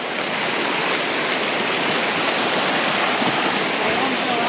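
Roaring waterfall at Amargarh, a steady dense wash of rushing water at full strength throughout, loud and close with no break.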